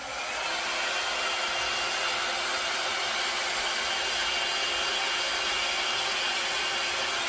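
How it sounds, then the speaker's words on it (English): A hair dryer blows steadily on poured paint, a loud continuous close-up rush of air that holds unchanged throughout. "when I was using my hairdryer and blowing it out"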